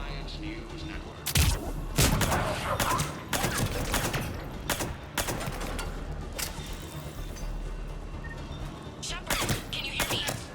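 Bursts of gunfire from a firefight in the Mass Effect Legendary Edition game, several sharp shots spread across the clip over a low background rumble, with some speech mixed in.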